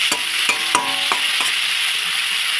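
Milk cooking down with turmeric in a pan, a dense, loud sizzle close by, broken by a few spatula knocks and scrapes early on, then a continuous hiss with no talking.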